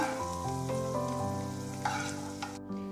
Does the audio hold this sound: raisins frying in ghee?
yes